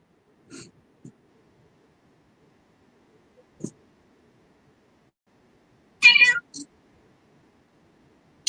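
A pet cat meows a few times indoors, short scattered calls with one louder, longer meow, and quiet gaps between them.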